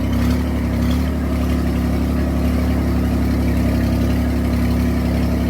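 A tractor engine drones steadily and loudly from close by while someone rides on it at a farm field, a constant low rumble with no talking.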